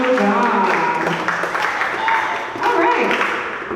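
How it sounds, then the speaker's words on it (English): Audience applauding a school orchestra at a spring band and orchestra concert, a broad steady wash of clapping that fills the whole stretch, with some voices mixed in. "let's give them a round of applause in their classrooms for the orchestra"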